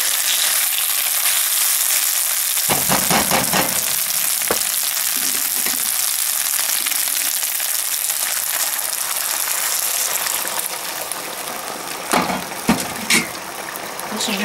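Rice frying in olive oil gives a steady, close, loud sizzle throughout, with a few sharp clinks and scrapes near the start and again toward the end, and no talking.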